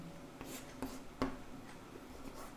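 Chalk or marker scratching on a board during a maths lesson: a few short, faint strokes and taps in a quiet room, with no voices.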